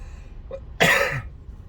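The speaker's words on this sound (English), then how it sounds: "Don't mind my coughing. I do have quite a cough at the moment." A single harsh cough bursts out after a faint throaty sound, close and fairly loud, from a man with a bad cough, followed by quiet.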